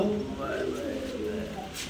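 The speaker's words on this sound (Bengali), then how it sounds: "এই যে এটা মাদি কবুতর, এটা মাদি, এটা নর" Pigeons coo softly nearby in a short burst at a pigeon farm, with a person speaking over the low, rolling calls.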